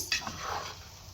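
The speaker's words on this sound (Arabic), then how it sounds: "هنبتدي بقى نشوح العيش ده في السمنه كده تشويحه حلوه كده" Egyptian baladi bread stirred in hot ghee in a pan for fatteh gives a brief close clink of a utensil against the pan, then a soft, continuous sizzle.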